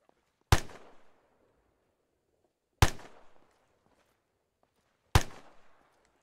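Three deliberate, evenly spaced rifle shots in the military game Arma III, each a loud sharp crack followed by a short rolling echo, with silence between.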